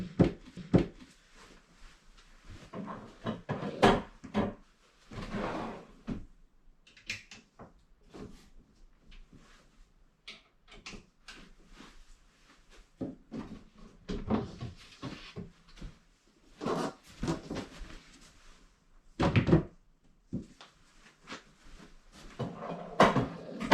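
IKEA Nordli dresser drawer sliding in and out on its slides during assembly, with faint repeated scrapes, clicks and knocks in irregular bursts, fairly quiet and close, with no talking.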